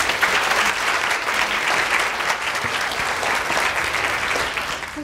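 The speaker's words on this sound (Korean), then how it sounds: "최인아 부사장님을 큰 박수로 맞아주십시오." A lecture audience applauds loudly to welcome a guest speaker at a reading-concert special lecture, with dense, sustained clapping that fills the hall from start to finish.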